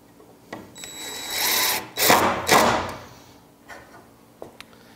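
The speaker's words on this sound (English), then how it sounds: "I'm driving just temporary screws here because I have replacement screws for" A power drill driving temporary screws into a wooden bed frame slat support, a couple of short whirring bursts with a brief motor whine, close and alone against a quiet room.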